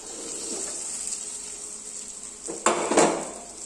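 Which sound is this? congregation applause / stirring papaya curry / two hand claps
stirring papaya curry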